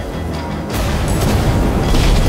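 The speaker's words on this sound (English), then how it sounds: "Fireworks!" Fireworks burst in the Minecraft Story Mode video game, a deep booming blast that hits after a brief rumble and rolls on loudly to the end.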